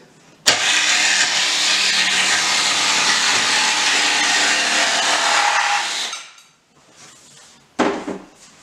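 A power saw fitted with a reversed blade cuts the tongue off parquet boards for a kitchen backsplash. It makes one loud, steady, close whine for about five and a half seconds, followed by a brief second burst of cutting.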